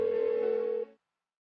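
A phone ringing unanswered in the Persona 4 Golden video game: a single steady electronic ring tone held for nearly a second, then cut off into silence.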